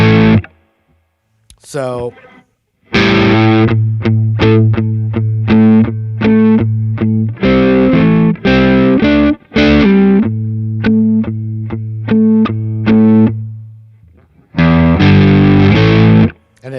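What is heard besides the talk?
distorted electric guitar playing power chords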